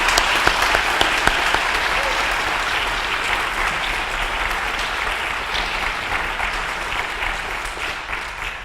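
A general meeting audience claps for Anthony, a dense, sustained round of applause from a sizable room that holds steady and tapers slightly toward the end.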